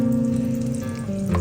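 Coconut oil and a little butter heating in a pan for prawn fried rice give a soft, steady low sizzle close by, without speech.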